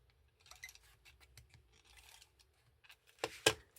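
Tape runner applying adhesive to card stock for a gatefold card, faint soft rubbing strokes in a quiet room, ending with a couple of sharper, louder rasping pulls.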